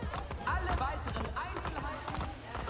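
Quick rhythmic hoofbeats of a galloping horse in Assassin's Creed Brotherhood, thudding steadily beneath a voice talking over them.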